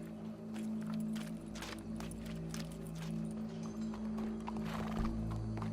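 Horse in the video game Red Dead Redemption 2, clip-clop hoofbeats and a whinny over a low steady game drone, fairly faint with no talk.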